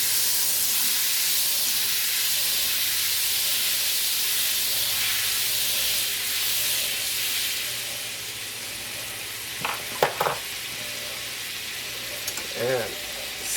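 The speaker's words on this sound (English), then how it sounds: "So now we're going to add our butter." Butter sizzles in a hot pan for breaded chicken, a loud hissing fry that fades slowly, then a few clatters and a brief sharp squeal near the end.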